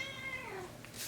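A pet cat lets out a single close, drawn-out meow that falls in pitch, in an otherwise quiet room.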